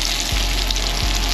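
Three pieces of striped bass sear in a hot frying pan, giving off a loud, dense, continuous sizzle close up, with a couple of soft low knocks.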